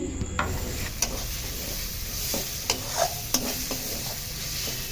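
Cauliflower paratha filling with chopped tomato and salt stirred in a frying pan: a steady background sizzle with occasional scraping knocks of the spoon against the pan, close and moderately quiet.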